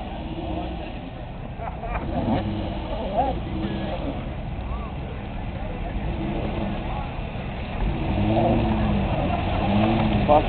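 A front-wheel-drive Nissan Cube drives across a campground, its engine running steadily and swelling louder toward the end, with voices talking and shouting over it throughout.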